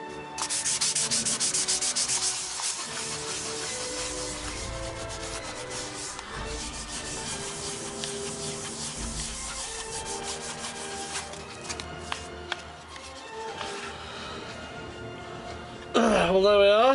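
Steady abrasive sanding of body filler on a Star Trek medical tricorder prop, continuous close rubbing strokes for most of the span, ending in a brief different sound with some faint talk in the background.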